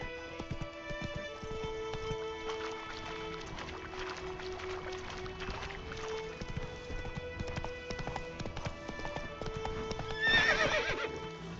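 The horse Roach gallops in The Witcher 3, a steady run of hoof clip-clops with a sharp neigh near the end, all game sound with no voices.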